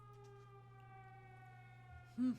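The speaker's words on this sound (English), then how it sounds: "there's air raid sirens" Air raid siren in the video game Everybody's Gone to the Rapture, a steady held wail under a low drone, swelling louder near the end.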